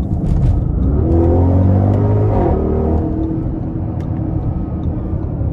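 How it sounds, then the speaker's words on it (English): A 2022 Audi RS Q8 with a 591 hp 4.0-litre twin-turbo V8 roars hard under full throttle, loud and close from inside the cabin, the note rising through a gear before settling into a steady deep rumble. "when you put your foot into it and you get that roar just between the engine, the exhaust"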